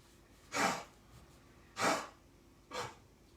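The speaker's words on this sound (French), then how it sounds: "écouter la chienne qui tousse" Three short, breathy, hacking bursts spaced about a second apart, close and fairly soft, like a female dog's dry coughs in a quiet room.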